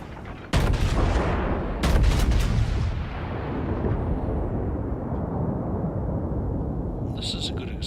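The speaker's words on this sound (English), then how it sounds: "there's a Scharnhorst and a Tirpitz shooting at you" Heavy naval gunfire from the German battleships Scharnhorst and Tirpitz in a video game, two loud booming blasts close together followed by a long rumbling roar that fades slowly, with faint crackles near the end.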